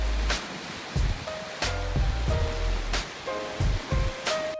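Floodwater in Scotland spills across a driveway and over a field as a steady broadband rush, with gusty low rumbles and faint tonal sounds drifting over it.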